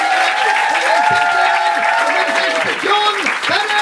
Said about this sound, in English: start your applause.